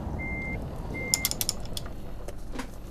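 A truck's reversing beeper in Euro Truck Simulator 2, two steady electronic tones followed by clicking and ratcheting gear mechanism noises, fairly quiet over a low engine rumble.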